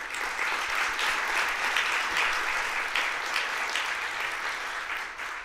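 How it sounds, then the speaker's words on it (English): Steady applause fills a Hall of Fame inductee luncheon, many people clapping together at an even level for several seconds and easing slightly at the end, with no speech over it. "Please give them a round of applause."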